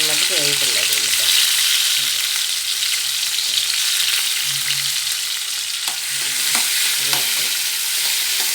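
Tomatoes sizzling loudly in a pan of oil for tomato rice, a dense continuous hiss up close, broken by repeated scraping and clinking of a spoon as they are stirred, with no voices.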